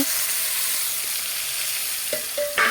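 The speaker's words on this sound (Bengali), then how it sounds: "এখন পনিরগুলো ভেজে নেব" Paneer frying in a pan with turmeric gives a steady, close sizzle that runs throughout, ending with a few brief clinks near the end.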